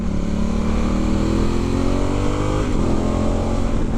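A Honda Africa Twin motorcycle with a stock exhaust, ridden on Canary Islands roads, gives a loud, continuous engine drone whose pitch climbs steadily as it accelerates, close to the rider with no talking.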